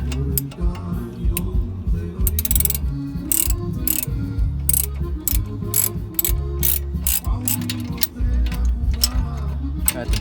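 Socket ratchet clicking steadily while tightening brake-area bolts on a Stepside pickup truck, one bolt at the top and one at the bottom, with rapid loud pawl clicks close by and a continuous low mechanical rumble beneath.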